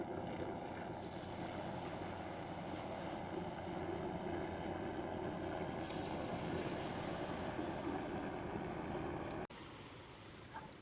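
Sea waves wash continuously against the shore at Genoa, a broad steady rush with wind noise over the microphone, faint and unbroken throughout.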